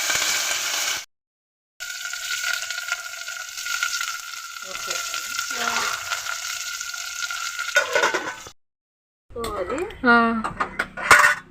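Onion, green chili and curry leaves hit hot oil with mustard seeds, cumin and dals, giving a steady broad sizzle broken by two short silences, with voices talking and sharp clinks of utensils near the end.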